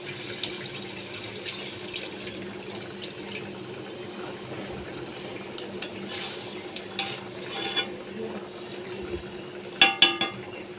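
Water is poured into a pan of hilsa fish curry spiced with Kashmiri chili powder, a quiet steady watery wash with faint stirring, then a few sharper clinks and splashes near the end.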